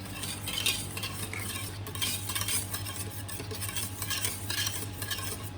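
A hand whisk stirs cream in a bowl for a peaches and cream coldset cheesecake, giving a steady, continuous scraping swish close up, with no talking.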